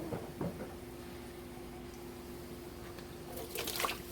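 Water trickles and splashes from upturned canning jars being lifted to drain, faint intermittent pouring with a brief burst of splashing near the end, over a steady low hum.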